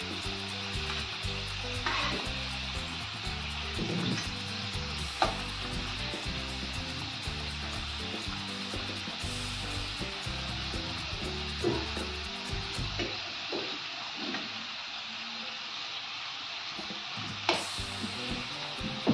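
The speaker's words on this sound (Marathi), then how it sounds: "गॅस थोडा मीडियम करायचा. छान लालसर होईपर्यंत तळून घ्यायचं." Modak dumplings deep-frying in hot oil over a medium gas flame, a steady dense sizzle and bubbling with occasional louder pops and crackles, no voices.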